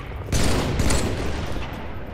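A rapid burst of Halo 3 gunfire in multiplayer rings out loud and close, a dense fusillade that keeps rattling after a sharp onset.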